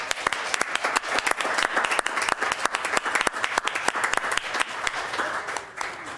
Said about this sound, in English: Can we have one last round of applause?